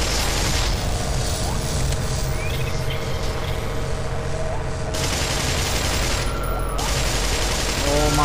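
Sustained gunfire and booming blasts aimed at the player in the video game Black Mesa: Source, a dense continuous barrage of shots and impacts with a few louder bursts, heard under occasional talk.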